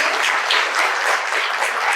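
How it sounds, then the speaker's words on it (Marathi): Loud, dense applause from an audience at a foundation day event, steady crowd clapping filling the whole stretch with no talk over it. "सरांसाठी खरोखर पुन्हा एकदा जोरदार टाळ्या होऊन जाऊ"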